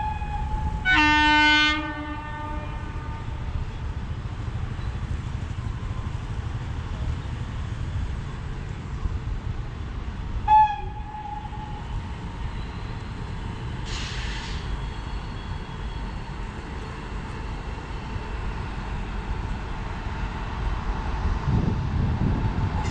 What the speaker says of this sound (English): Karnataka Express approaching at 30 kmph.